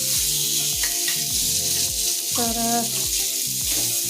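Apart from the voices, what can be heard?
paneer frying in oil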